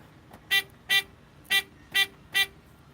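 A car horn honks five short times at uneven intervals to locate a parked car, somewhat distant, over a low background hum.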